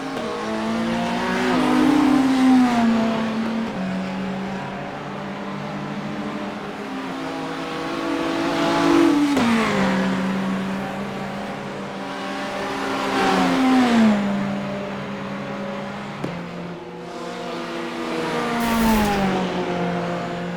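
GT3 race car engines in a racing video game, loud and close, rising through the revs and dropping at each gearshift in repeated waves, with brief tire squeal, no talk.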